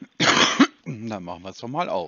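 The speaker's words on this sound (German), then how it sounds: "Ich habe ja nur gehustet." A person coughs loudly once at the start, a close, harsh burst, followed by conversational German speech from people nearby.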